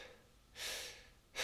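Two breaths drawn to show a shallow chest breath during a singing lesson on diaphragm breathing: a longer, breathy inhale, then a quieter pause, then a second short sharp intake, close and clear with no talking.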